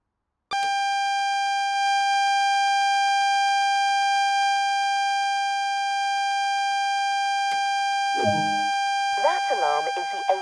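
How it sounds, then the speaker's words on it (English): The AWS self-test alarm in a train cab in Train Sim World sounds as a loud, continuous high-pitched electronic tone that holds steady for several seconds, followed by brief clunks and short talk near the end. "That alarm is the AWS self-test system."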